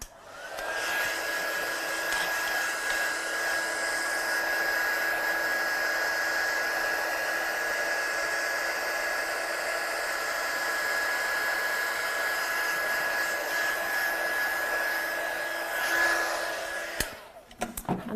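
A heat tool dries heat-embossed butterflies with a steady, loud whirring blow and a constant high whine. It runs unbroken for about seventeen seconds, then cuts off with a few clicks.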